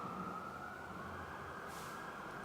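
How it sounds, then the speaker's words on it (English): A steady emergency siren drones in a city street, heard at a moderate distance over a constant wash of urban traffic rumble, with no speech. "I hope you can't hear the sirens in the background."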